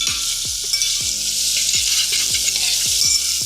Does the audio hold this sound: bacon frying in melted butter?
yes